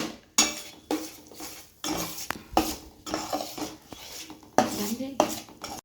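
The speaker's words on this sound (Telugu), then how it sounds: "ఆయిల్ వేసి బేసన్ ఫ్రై చేయాలి." Besan (gram flour) frying in oil in a pan for aloo barada curry, stirred with a metal spoon: a run of close, irregular scrapes and sharp clinks against the pan over a soft frying hiss.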